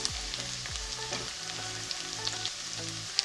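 Onions frying in a pan for fuluri hilsa fish, a steady close sizzle throughout with a few soft stirring scrapes and no voices.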